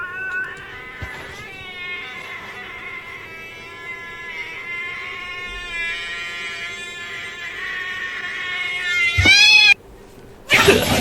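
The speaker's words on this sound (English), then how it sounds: "it does like a long battling meow" A cat lets out one long, drawn-out meow that swells into a loud, strained caterwaul near the end, close and sustained over a quiet background.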